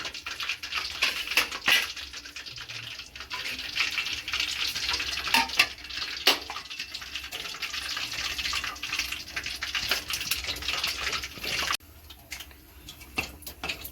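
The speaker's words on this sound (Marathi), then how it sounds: "जे आपले बाकीचे सुद्धा लॉलीपॉप आहेत ते आपल्याला फ्राय करून घ्यायचे" Chicken lollipops deep frying in hot oil give a steady, dense sizzle and crackle close by, continuous for most of the stretch before dropping off sharply near the end. No voices are heard.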